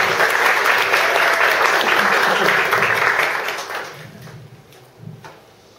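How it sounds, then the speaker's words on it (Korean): Warm applause from an audience at a Korean talk-show style gathering, a full burst of clapping that holds strong for about three seconds and then fades out, leaving a few scattered claps and faint room noise. "큰 박수 주세요"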